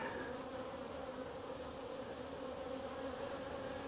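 Honeybees buzz steadily throughout a hive inspection in early March, a dense continuous hum of many insects close by with no talk.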